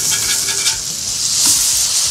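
A ground brisket burger patty sizzles loudly on a Blackstone griddle, a close, steady hiss with a brief scrape and thump as the patty is flipped. Nobody speaks.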